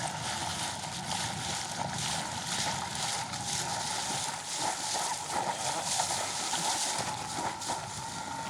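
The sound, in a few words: electric foil drive motor powering a board on water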